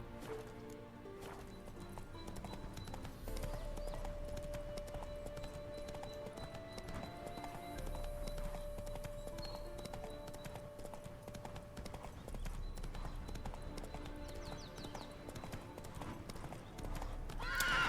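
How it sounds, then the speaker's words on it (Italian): Steady clip-clop of a galloping horse's hooves in The Witcher 3: Wild Hunt, under a busy, music-filled game soundscape, with a horse whinny near the end. "Allora il cavallo che galoppa."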